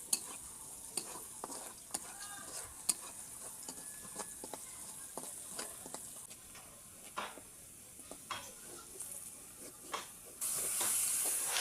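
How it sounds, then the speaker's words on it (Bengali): Chopped onion and garlic fry in oil, a continuous soft crackling sizzle broken by frequent stirring scrapes and taps of a utensil against the pan, with the hiss swelling near the end. "ভালোভাবে কিছুক্ষণ সময় নিয়ে ভেজে নেবেন এই পেঁয়াজ কুচি, রসুন কুচিটা"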